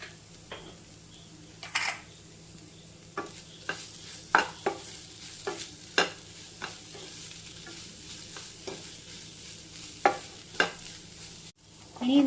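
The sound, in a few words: stirring tomato masala with salt in a pan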